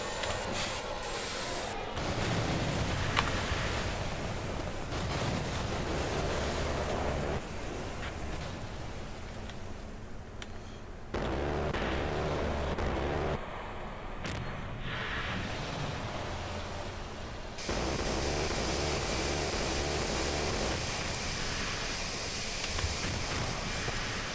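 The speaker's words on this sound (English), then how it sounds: "Fire up the engines, get us airborne, get us airborne." Ekranoplan engines in Kerbal Space Program roar as a steady, loud broadband rush with wind-like hiss, shifting in tone and intensity in several abrupt stages as the craft powers up.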